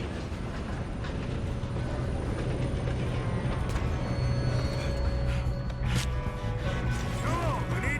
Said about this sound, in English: Come on, we need to stop this train.